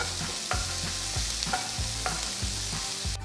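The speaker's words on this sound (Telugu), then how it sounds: "చిన్నగా తరిగిన 3 పచ్చిమిరపకాయలు వేసి అంతా బాగా కలపాలి" Chopped onion, ginger and green chillies fry in a pan while a spoon stirs them, sharp scraping strokes repeating roughly every half second over a constant close sizzle, no speech.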